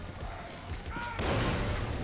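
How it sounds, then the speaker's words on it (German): An explosion erupts in the video game Far Cry 6, a sudden broadband boom that swells over a rumbling background of in-game noise and then holds as a sustained roar. "Oh, da explodiert noch was."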